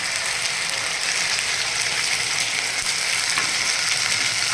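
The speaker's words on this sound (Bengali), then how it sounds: "আমার এখানে পেঁয়াজগুলো ভাজা হয়ে গেছে" Onions sizzling in hot oil, a dense, steady crackling hiss close by with no pauses.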